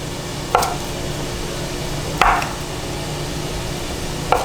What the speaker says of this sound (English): Just gonna chop this up.